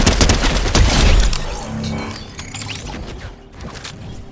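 Rapid bursts of gunfire in the Fortnite video game, a dense volley of loud shots in the first second and a half that thins into scattered reports and mechanical clatter, with no talk.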